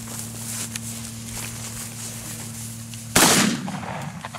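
Shotgun blast during a pheasant hunt in South Central Wisconsin: one loud, sharp report cracks out near the end over a steady background hum, with a brief ringing decay afterward.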